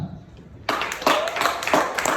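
Audience members at a founders community gathering break into clapping after a short quiet, a small group of hands striking in uneven bursts at close range.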